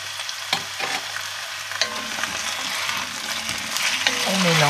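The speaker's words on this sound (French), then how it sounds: "On commence en faisant revenir notre échalote et notre oignon et on ajoute nos deux gousses d'ail écrasées." Shallot, onion and crushed garlic sautéing in a pan with vegetables, a close, lively sizzle with scattered stirring knocks and spatters, rising slightly toward the end; no speech.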